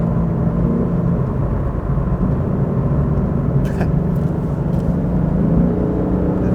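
Lexus RC F exhaust in Sports Plus mode rumbles loudly and steadily from inside the car, a dense low roar that holds for several seconds with no talk.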